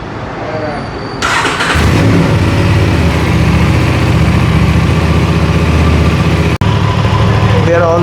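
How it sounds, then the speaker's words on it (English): An Aprilia RS 457 motorcycle engine, fitted with a DNA air filter after a full service, cranks and fires, then settles into a steady, loud idle with a continuous low throb and brief mechanical clatter. "We are going to give it a first crank and keep it at idle so that the ECU adjusts to the airflow."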